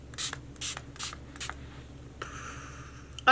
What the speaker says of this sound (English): we're gonna finish with the Slay All Day setting spray